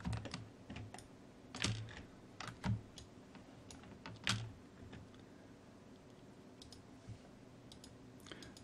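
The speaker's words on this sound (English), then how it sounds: "This uses different keyboard shortcuts." A computer keyboard clicks with sparse taps and short bursts of keystrokes as shortcuts are entered, quiet and close, with a few sharper strikes standing out over a faint steady background hum.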